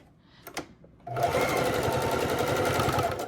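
A sewing machine stitching over a weak point in a seam while taking in a pair of pants, starting after a brief quiet pause and then running in a fast, steady, close mechanical whir.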